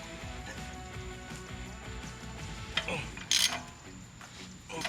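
A ratchet wrench clicks close by while undoing a strut nut on a Ford Mustang, a quick run of ratcheting clicks over a steady background hum, with a brief metallic clank near the end.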